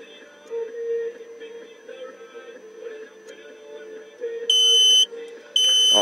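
A four-channel LCD thermostat's alarm buzzer goes off as a soldering iron heats its sensor, sounding two loud, sharp electronic bursts near the end over a low humming background.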